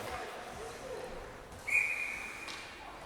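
Referee's whistle at a U13AA youth ice hockey game, a single short shrill blast in the middle of the clip over rink crowd noise and commentary.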